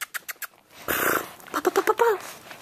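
Samoyed puppy tugging at a slipper, growling in a series of short bursts and then a longer rumbling growl with snorts, close and loud, with a person's voice briefly in the mix.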